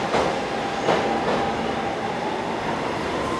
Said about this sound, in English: D train's coming.